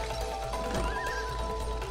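A horse in the video game It Takes Two whinnies loudly and clearly over a steady game soundscape, a single drawn-out neigh in the middle with faint clopping hooves around it.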